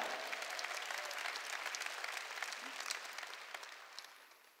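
A church congregation claps together during a sermon, a dense, even wash of applause that stays steady and then gradually fades toward the end.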